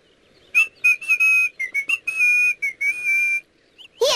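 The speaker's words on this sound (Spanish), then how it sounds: "yo silbo. Así." A clear, bright whistled tune of quick varied notes, some held and some short, close and alone with no talk.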